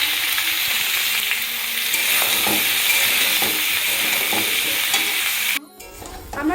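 Cabbage and mixed vegetables for a vegetarian chorchori, seasoned with salt and turmeric, sizzle loudly in a pan while being stirred with scraping strokes. The frying stays steady and close, then cuts off briefly near the end.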